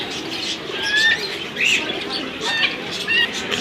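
Pigeons coo softly in repeated short bursts among chirps and occasional wing flutters at a pigeon market in Jinjira, Keraniganj, Dhaka, with faint human voices in the background.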